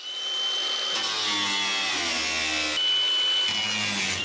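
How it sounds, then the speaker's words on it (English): An angle grinder cuts the locks out of a metal cabinet, a loud, continuous high-pitched whine that dips and recovers in pitch as the disc bites, briefly cutting out twice before resuming. "So I think I'm gonna have to get an angle grinder."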